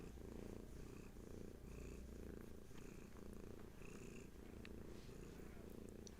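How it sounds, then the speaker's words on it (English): A cat purrs close up in a soft, steady rhythm, each breath cycle rumbling in and out, with nothing else heard. "Allow Hattie's purrs to bring you back"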